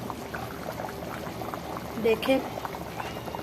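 Aloo gosht curry with added water bubbling at a boil in the pot, a steady close burbling simmer under a brief spoken word.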